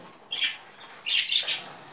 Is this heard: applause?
no